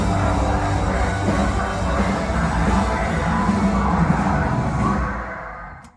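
A dense crowd at a metalcore concert yells and roars continuously and loudly over heavy music, the wash of sound fading out at the end.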